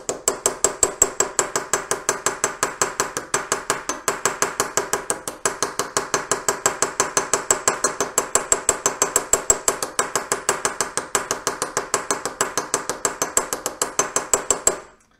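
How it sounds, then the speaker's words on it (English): Rapid, steady hammering of a metal earring with a ball pein hammer, sharp ringing taps repeating several times a second throughout, close and loud with no talk. "I'm just gonna start hammering away."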